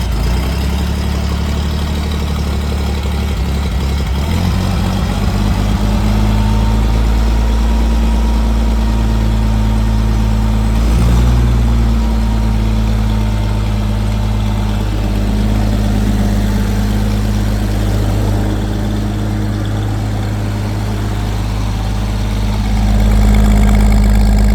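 An old Oliver tractor engine, choke partly pulled, cranks over and catches, then settles into a steady, loud, close idle with a low throbbing rumble that runs unbroken to the end.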